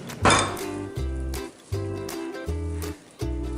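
Lomo saltado beef tossed in a pan, rhythmic clattering and clinking of metal roughly every three quarters of a second, each toss giving a short sizzling, scraping burst, close and distinct with no talk.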